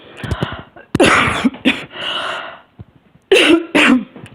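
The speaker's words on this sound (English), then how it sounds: "so I start coughing" Several harsh, close coughs in uneven bursts, with raspy breaths and throat sounds between them.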